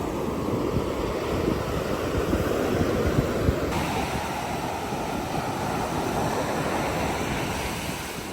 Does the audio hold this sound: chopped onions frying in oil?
no